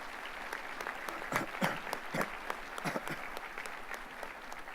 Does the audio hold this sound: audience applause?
yes